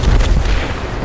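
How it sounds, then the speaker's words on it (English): Valkyrie fires a burst of missiles in Apex Legends: loud, close, heavy booming blasts packed into about a second, with no pause between them. "Box 3, firing missiles."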